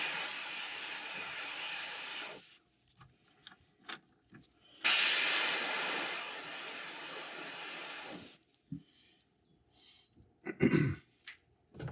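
Airbrush misting paint onto a crankbait lure, a hissing spray in two sustained bursts of a few seconds each, separated by quiet gaps with small clicks and handling sounds.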